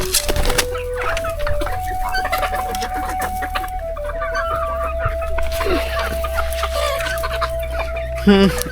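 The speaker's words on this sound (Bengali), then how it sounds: "যদি আমাদের খামারের মুরগিগুলো দেখেন" Desi hens clucking close by on a small village farm with a long drawn-out cackle, other fowl calling in the background, and a brief low voice near the end.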